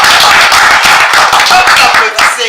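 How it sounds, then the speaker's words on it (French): An audience claps for a speaker at an inspirational talk on failure, loud close hand claps in a quick irregular patter, with some voices mixed in among the clapping. "Quelqu'un dit qu'il nous souhaite d'échouer, vous applaudissez."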